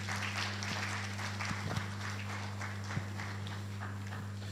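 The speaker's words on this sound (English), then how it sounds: "Another round of applause for Engineer Dr. Adebisi Osim." Audience applause after a speech at an engineering olympiad launch event, a dense, even patter of clapping from a crowd, moderately distant and steady throughout, over a constant electrical hum, with no talk.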